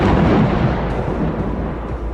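A loud, deep rumble of thunder in a horror story rolls and fades over two seconds, heavy and close with a broad, noisy texture.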